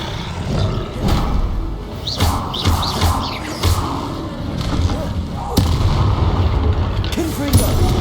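Spell explosions from Confringo and Bombarda blasts in Hogwarts Legacy, a series of booming bursts and crashes every second or so over continuous loud battle noise, with a voice speaking in between.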